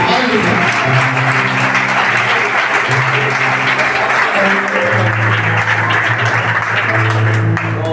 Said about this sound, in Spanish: vamos a dar un aplauso a la palabra del Señor